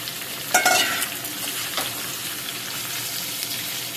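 Chopped capsicum and onion roasting in a pan over a medium gas flame, sizzling steadily while a spoon stirs, with a couple of sharper scrapes early on.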